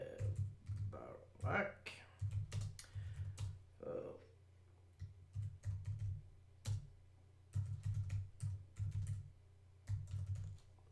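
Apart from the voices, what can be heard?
typing on computer keyboard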